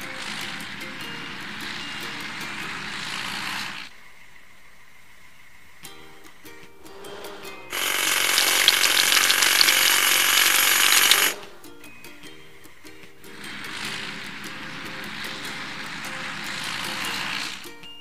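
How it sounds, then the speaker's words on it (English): Hydraulic hammer cracking big rocks in a children's video game, a loud steady rattling jackhammer burst of about four seconds set between stretches of cheerful game music and effects. "Hydraulic hammer."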